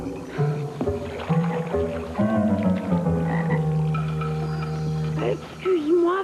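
A frog croaks loudly and close in a cartoon scene, its throaty calls repeating in uneven bursts with a rising, warbling tone, and some voice-like character throughout.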